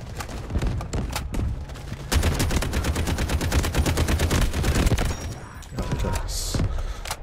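Rapid automatic gunfire in the war video game Delta Force, loud close bursts of dense repeated shots that run for several seconds, then shorter bursts follow.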